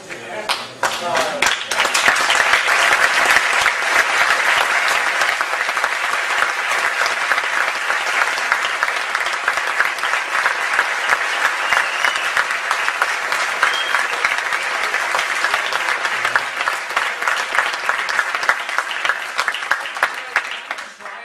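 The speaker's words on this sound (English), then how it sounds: "You all clap." A conference audience at an event bursts into sustained, dense applause that rises quickly and holds steady at a loud level for about twenty seconds with no talk over it.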